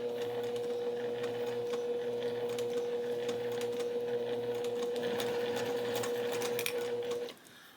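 A sewing machine stitches steadily at close range, slow and then running forward, a continuous even whir with rapid needle clatter and a faint hum that stops abruptly near the end while cross stitch finishing.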